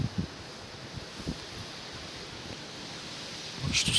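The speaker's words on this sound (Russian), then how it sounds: "Это вот ураганный ветер" Hurricane-force cyclone wind at night, around 25 m/s, sweeping past a Ferris wheel and thuja shrubs, a constant rushing roar with low rumbling buffets and a harsher gust swelling at the close.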